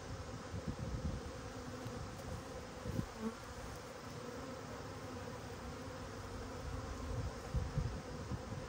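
Honey bees from a package install buzz steadily in a new hive, a continuous close droning hum with slight swells, no voices over it.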